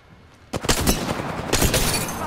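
Gunfire in the video game Apex Legends, a sudden burst of rapid shots after a brief quiet moment, then continued firing, loud and close.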